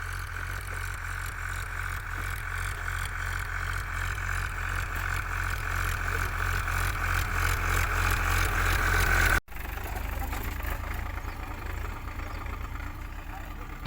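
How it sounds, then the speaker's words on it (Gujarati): Farm tractor engine running at the field during sowing, a steady low drone heard close and continuous, with a brief cut partway and voices faintly over it. "પછી જો ટ્રેક્ટર ચાલુ થઈ ગયું છે મિત્રો"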